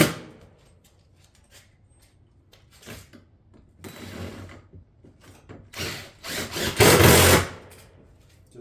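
Pine Crest shakes being fastened into roof decking, heard as faint scattered tool clicks followed by a couple of louder mechanical bursts near the end, with no speech.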